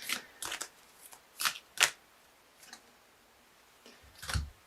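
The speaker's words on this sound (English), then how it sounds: "I'm going to quickly pull a Wild Kuan Yin Oracle card for my dear Libras" Wild Kuan Yin Oracle cards being shuffled in a quiet room, with several short, close papery riffles and slaps spaced irregularly.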